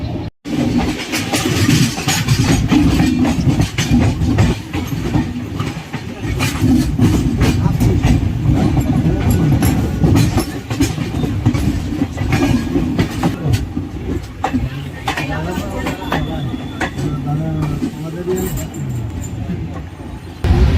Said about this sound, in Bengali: 5 মিনিটের হল দেওয়ার পর ভোসাবল জাংশন ছাড়ছে